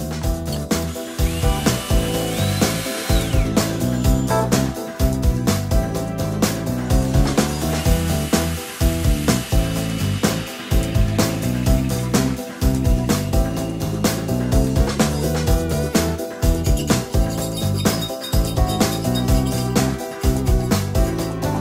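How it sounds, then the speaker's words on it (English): A power drill whines loudly and repeatedly, spinning up and bogging down in short bursts with brief pauses between each hole, drilling through two pieces of a guitar tool case. "drill a couple of holes through both of them"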